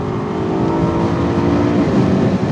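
A BMW E90 M3 pulls hard in third gear, its engine a loud, steady, rising drone heard up close and alone, with no break in the note across the short clip.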